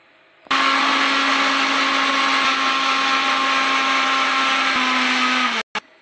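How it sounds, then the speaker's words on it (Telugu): An electric mixer grinder starts abruptly and runs at a loud, steady whine while grinding mustard seeds, ginger, chillies and salt into a paste, then cuts off sharply near the end. "కొంచెం సాల్ట్ వేసుకొని ఇది మనం మిక్సీ పెట్టుకోవాలి"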